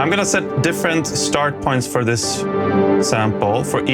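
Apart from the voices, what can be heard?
No everyday noises stand out.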